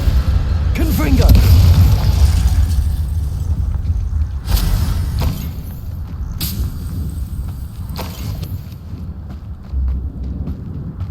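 A fire spell called Confringo from the Hogwarts Legacy game bursts with a booming blast, followed by rumbling game ambience and a few fainter thumps, with a character's voice speaking over it.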